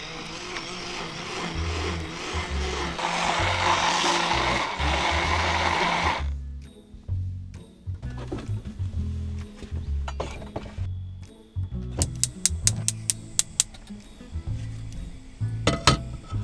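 Vegan pancake batter made with almond milk is mixed in a bowl inside a van, first with a loud whirring blender-like buzz, then with softer stirring and clinking against the bowl.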